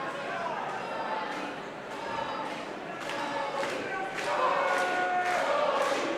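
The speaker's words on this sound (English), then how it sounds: "just listen to the crowd" Arena crowd at an intergender pro wrestling match cheering for Jody Threat, a steady roar of many voices with rhythmic clapping and swells that grow louder toward the end.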